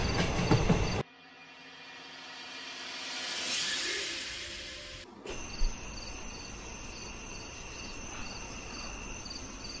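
A train passes on a double-track line at night. Its rumble swells and fades beneath loud, continuous cricket chirping, then cuts abruptly to a steady insect drone.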